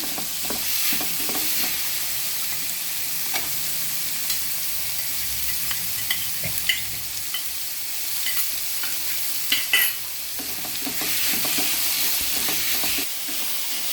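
Garlic ginger paste and green chilli paste fry in hot oil, sizzling steadily while a spoon stirs and scrapes the pan with intermittent clicks and taps, up close and with no talking.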